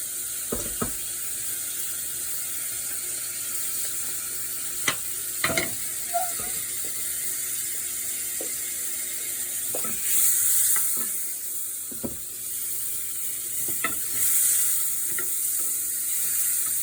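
Two tablespoons of butter melt in a very hot pot for béchamel sauce, giving a soft continuous sizzle broken by sharp clicks and scraping stirs against the metal, close and fairly quiet, with no speech.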